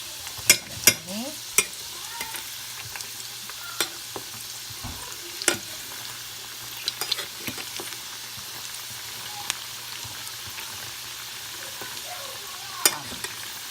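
Kefta in a bulgur crust fries quietly in a pan, a low steady sizzle under scattered sharp clicks and taps of a utensil.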